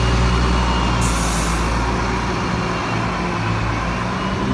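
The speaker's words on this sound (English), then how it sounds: "There's, there's the Craig Tara bus there." A Craig Tara bus idles loudly on a High Street, its engine rumbling low and constant, with a brief hiss of air brakes early on over the surrounding traffic noise.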